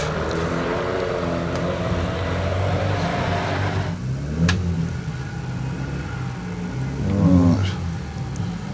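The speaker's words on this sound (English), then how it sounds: "it's definitely a Datsun 1600" A Datsun 1600 race car at a hillclimb revs its engine in a harmonic, rising snarl for about four seconds, then drops off, with a sharp click and another brief rev burst later.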